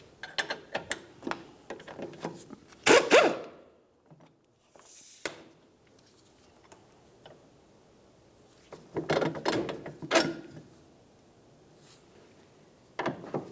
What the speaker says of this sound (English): Let's go ahead and remove that bolt.